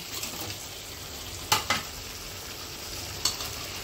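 Mukundi fish pieces and potatoes going into a fried spice paste in a pan: a constant oily hiss with three sharp metallic clinks spaced apart.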